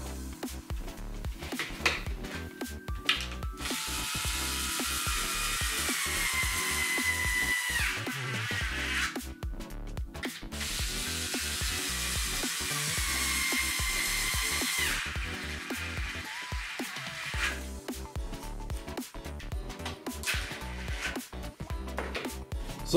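Power drill countersinking holes and driving screws into wood while building a small N-scale model railway station module, with steady whirring bursts that stop and restart between holes, close and fairly loud.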